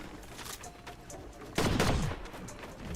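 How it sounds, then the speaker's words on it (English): Assault rifle fire in a Fortnite match: a burst of several rapid shots rings out near the middle, loud against a quieter background of softer distant game noise. "He's mostly going to spam his AR in a lot and then rely on that shotgun"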